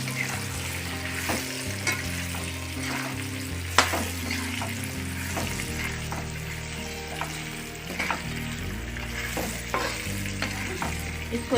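Potatoes with ginger frying in a pan for a potato and pumpkin curry, a continuous close sizzle broken by repeated scraping and clinking of a spoon as they are stirred.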